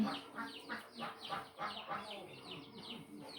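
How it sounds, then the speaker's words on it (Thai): Chickens clucking and crowing at a Lao-style home kitchen, a cluster of repeated squawky calls overlapping at close range, with a voice talking over them at moments. "มาเบิ่งไก่ๆกันได้พี่น้อง"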